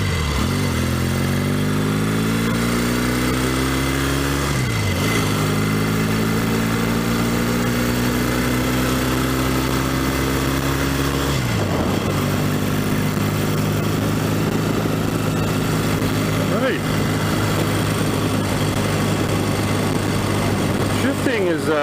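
A 1964 Royal Enfield Interceptor Mk1 motorcycle with an Albion gearbox runs loud and close, its engine note climbing steadily through each gear and dropping briefly at every shift.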